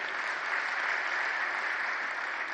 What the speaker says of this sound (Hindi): आज इसके लिए ताली बजाए इन सब के लिए।